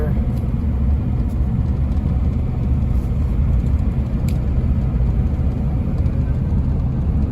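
An LBZ Duramax diesel truck engine in limp mode drones through a steady, muffled rumble while driving gently, the cabin noise constant and unchanging, with voices speaking over it.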